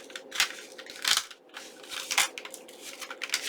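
Scissors trim paper for a junk journal, several close crisp snipping and crunching cuts in an uneven rhythm, with no talk.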